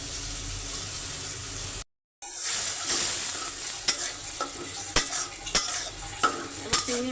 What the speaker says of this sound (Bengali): এবার দিয়ে দিচ্ছি কেটে ধুয়ে রাখা চিংড়ি মাছ।